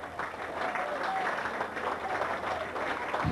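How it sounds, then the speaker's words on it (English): At a Kingstonian FC non-league football match at King's Meadow, the crowd applauds and cheers as the home side walks off, a sustained wash of clapping under a commentator's voice. "Kingstonian side walking off to a standing ovation from the crowd"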